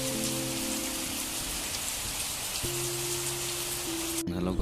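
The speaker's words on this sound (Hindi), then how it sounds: "बहुत बारिश दे रही है।" Steady, heavy rain pours down in a dense, even hiss throughout, with a low engine-like hum underneath and a brief change near the end.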